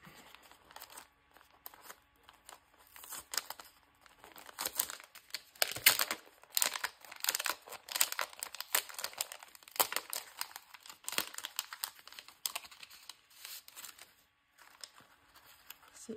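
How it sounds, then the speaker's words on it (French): A small piece of paper from a Rolife miniature house kit is crinkled and handled up close, giving irregular crisp rustles and crackles in bursts with quiet gaps, no talking. "C'est un petit morceau de papier."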